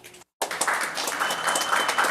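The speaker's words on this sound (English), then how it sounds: "Come on, team, clap for your coaches." After a brief silence, a group at a city council meeting breaks into steady applause, a short burst of many hands clapping.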